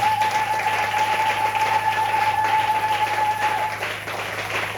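A church congregation applauding and cheering the Lord during a service: dense, sustained clapping from a large crowd with a held tone running through it, steady and fairly loud before easing off at the end.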